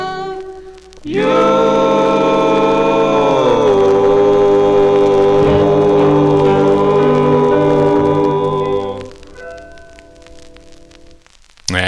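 Doo-wop 45 single from 1960 playing on vinyl, a sustained harmonized vocal chord with steady backing that swells, holds for several seconds, then fades out.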